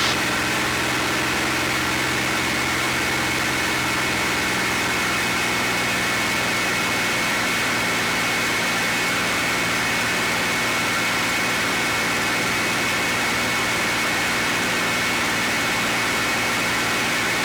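A small aircraft's engine drones steadily after power is brought back to cruise, a loud, even hum with a constant tone and no pauses, heard from inside the cabin.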